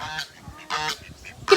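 A goose honking near a picnic table while chickens are fed, several short nasal honks close by, the last one loudest.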